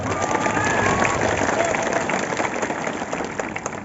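An audience at a World Indigenous People's Day celebration claps in a dense, steady burst of applause, loud and close, with faint voices mixed in.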